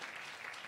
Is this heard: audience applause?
yes